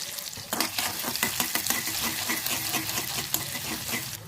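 A small shallot sizzles in hot oil in a pan while brinjal and peanut stir-fry is cooked, with steady crackling frying and a series of sharp stirring clicks from the utensil, fairly close and with no voices.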